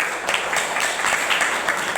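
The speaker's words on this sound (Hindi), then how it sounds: "अपने नए साथी के लिए हम ताली बजा के स्वागत" An audience claps to welcome new members at a direct-selling business meeting, with dense, steady applause that stays loud throughout.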